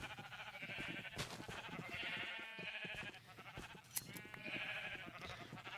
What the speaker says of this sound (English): All these sheep, they're so loud.